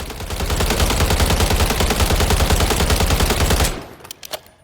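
The AK-ALFA rifle in Call of Duty Modern Warfare III fires one long, loud, continuous automatic burst of rapid shots lasting nearly four seconds, then stops, leaving a few faint clicks and rattles.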